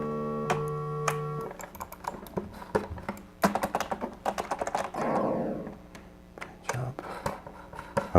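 Computer keyboard keys pressed during an Atari 5200 mouse and keyboard setup test, a string of close, crisp clicks and thunks in irregular bursts, some single taps and some quick runs, with a faint steady tone at the start.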